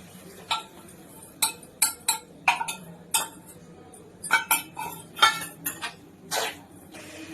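A spoon clinks and scrapes against a pan while mushroom manchurian is stirred with cornflour over a low flame, giving a dozen or so sharp, close metallic taps in an uneven rhythm with no talking.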